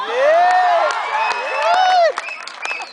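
An audience reacts after a poetry recital with loud, rising and falling whoops and cheers, mixed with scattered claps, before fading into a quieter murmur.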